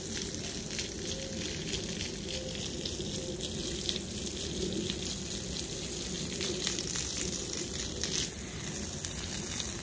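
A garden hose sprays water onto a tree and freshly planted grass, giving a steady, unbroken hiss and patter that runs throughout at moderate volume.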